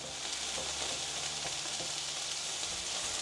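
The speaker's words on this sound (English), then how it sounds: "We'll cook the green beans and the carrots for 5 minutes until they become tender." Green beans and carrots stir-frying in olive oil in a pan, a steady close sizzle with occasional soft stirring, no voices.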